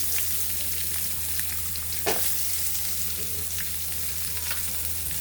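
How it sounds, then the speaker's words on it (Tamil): Onions sauté in a hot pan for a cauliflower dish, giving a continuous crackling sizzle up close with occasional stirring clicks and no voices. "இந்த வெங்காயத்தை போட்டு நல்லா வதக்கணும்."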